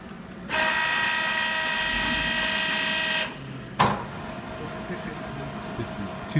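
A 15 x 54 inch LeBlond-Makino servo shift engine lathe runs in reverse, giving a steady geared whine for about three seconds. The whine then cuts off with a sharp clunk, and a quieter mechanical hum continues.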